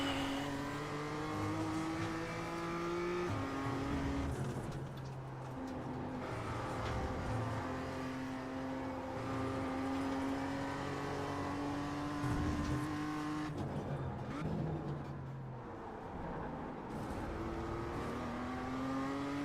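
Race car engine in a racing game, revving loudly and steadily with rising and falling pitch as the car shifts through gears, with no voices heard.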